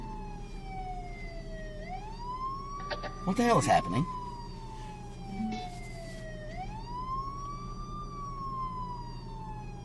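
An ambulance siren on a New Orleans street wails in long rising and falling sweeps, steady and moderately distant over road noise, while a person briefly speaks partway through.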